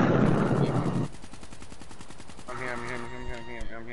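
Gunfire on a video game multiplayer map, a rapid automatic burst of close, loud shots followed by a steady rattling stream of rounds.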